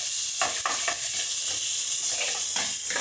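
Onion and green chillies fry in mustard oil in a pan, a steady bright sizzle broken by several stirring scrapes, close and alone without talk.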